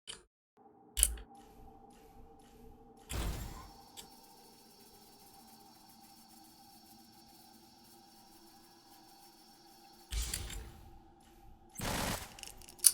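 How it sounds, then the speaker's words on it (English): Guns being test-fired: four short, loud bursts of rapid gunfire, the second and last volleys longer, separated by quieter stretches over a steady low hum and faint tones. "while we test these guns"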